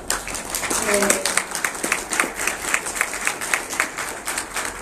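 An audience at a science communication panel on post-truth and fake news applauds a speaker, a steady patter of clapping that swells early and then thins out, with voices heard over it.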